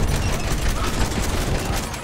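Rapid, sustained automatic gunfire in a first-person war video game, dense and loud, continuing without a break.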